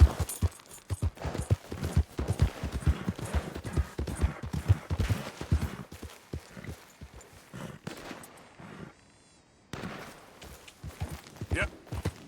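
A horse's hooves clip-clop in a steady, brisk rhythm while riding in the game Red Dead Redemption 2, with a short pause before the hoofbeats resume, all fairly close.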